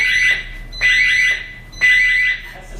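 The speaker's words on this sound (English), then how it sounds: "That safe touch is alarm going off." A Safe Touch system alarm sounds in a kitchen with three loud, piercing electronic beeps at an even rhythm, each lasting about half a second, close by and with no voices over them.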